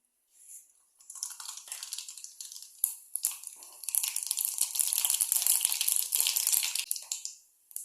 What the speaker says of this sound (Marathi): तेल गरम झालं की त्याच्यामध्ये 1 चमचा मोहरी घातली